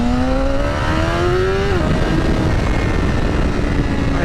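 A 2025 BMW S1000RR motorcycle under way, its engine loud and close with a rising rev that drops at a gear change, then a steady high drone over heavy wind rush.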